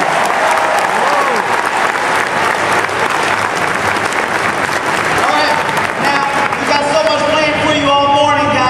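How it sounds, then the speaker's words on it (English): Loud, dense applause from a large audience fills a Walmart shareholders event, sustained throughout with crowd noise and scattered cheering, and an amplified voice or music emerging near the end. "give yourselves a round of applause"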